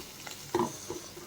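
Onions fry in peanut oil, heard as a faint soft sizzle with a short stirring scrape in the middle, close and brief.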